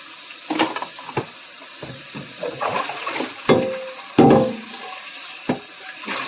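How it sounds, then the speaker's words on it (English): Tap water runs and splashes while a crock pot is rinsed in a sink, an uneven series of close sloshes and knocks with short pauses between, and no one speaking. "Rinsing my crock pot completely, so you will hear the water running for a moment."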